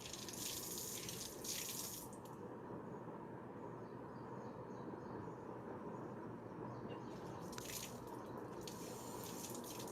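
Water pours out steadily as a belly is squeezed during a fasting science demonstration. It is a continuous, fairly loud rushing flow that lasts the whole stretch with no pauses and no talking.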